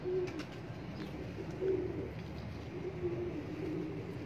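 Pigeons in a loft coo softly in low, repeated, throaty calls, several times over a steady background hum, fairly close and with no talking.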